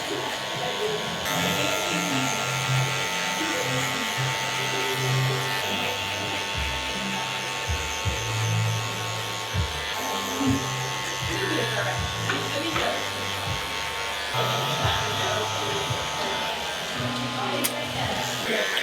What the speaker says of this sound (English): I'm just letting my clipper come up and off into my number 2.